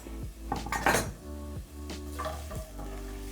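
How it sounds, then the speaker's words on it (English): Chopped onions for a samosa filling cooking in a pan and stirred with a spatula, heard as close metallic clinks and scrapes of the spatula against the pan over a faint sizzle, with no talking. "So you saute while stirring."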